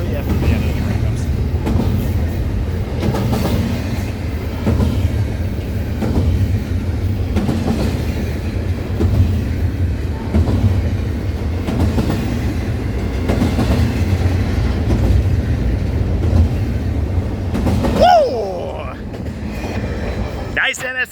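Freight train with NS locomotives rolling past close and loud, a steady rumble with rhythmic clickety-clack from the wheels, ending in a brief wheel squeal, as voices speak faintly.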